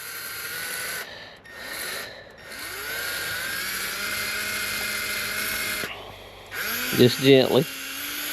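Wire wheel scrubbing a part on a Yamaha TW200 motorcycle, a whirring, rasping spin that rises and falls in short passes, with a brief bout of harsh grinding near the end and someone speaking softly.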